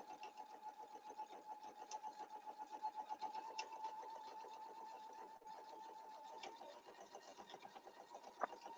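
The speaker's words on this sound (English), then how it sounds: "It's going to stitch right where you were before" A Viking/Pfaff embroidery sewing machine stitching onto fusible cutaway mesh, a steady fast whirring hum with a rapid pulsing needle rhythm that runs continuously and close by, fairly quiet, with no talking.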